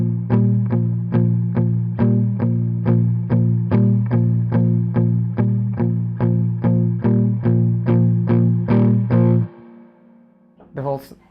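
A distorted electric guitar plays a Johnny B. Goode style power chord shuffle, alternating the fifth and major sixth in a steady, even chugging rhythm for about nine seconds before a final ringing chord.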